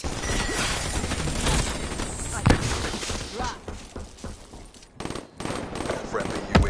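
Automatic fire from a Talon drone in Call of Duty Black Ops 3 multiplayer, with rattling bursts and a few heavier impacts that briefly drop out near the end, mixed with game voice callouts.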